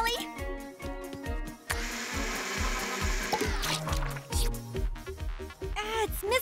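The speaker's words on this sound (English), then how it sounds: "Throw everything in the blender." Blender whirring in a cartoon kitchen while fruit is blended into a smoothie, a loud sustained buzzing burst over bouncy music and busy effects, with brief cartoon voices around it.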